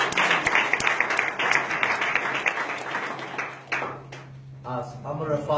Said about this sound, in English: Let's give a big round of applause to IBM.